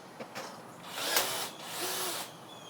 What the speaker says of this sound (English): I really like this DeWalt rivet gun here. Battery operated, kind of like the Milwaukee.